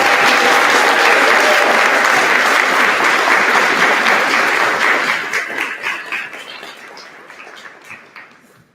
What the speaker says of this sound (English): Let's start off by giving these young people a round of applause.